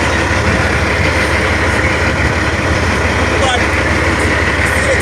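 A Kenworth W900 truck with a Cat C15 engine and four mufflers idles close by, a steady loud rumble that holds through the whole stretch, with people talking over it.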